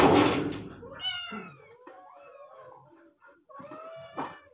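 A cat meows several times in close succession, with rising and falling wavering cries, fairly near and clear over a quiet room with a soft thump at the start.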